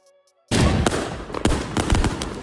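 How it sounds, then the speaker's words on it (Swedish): Fireworks going off in Vårberg, Stockholm: after a brief quiet, a dense, loud barrage of crackling bangs and rapid pops continues unbroken, with sharper reports standing out in the stream. "där det skjuts fyrverkerier i Vårberg"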